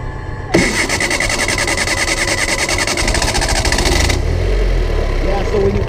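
A vehicle engine cranks and catches, settling into a steady loud idle that runs for several seconds, then a brighter buzzing component drops away while the low rumble continues up close.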